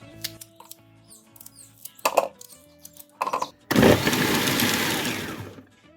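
An onion chopped for lasagna: a few clicks and knocks, then an electric chopper whirs loudly and steadily for about two seconds before cutting off, close by, with no talking.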